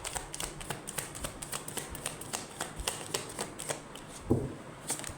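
Tarot cards are shuffled and drawn by hand in a rapid series of soft, close riffling taps and flicks, with one sharper slap near the end and no talking.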